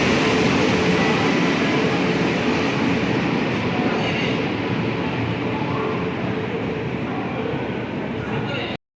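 Loud, continuous rumble and rattle inside a moving train carriage, steady wheel and track noise throughout, with a voice faintly mixed in, ending abruptly.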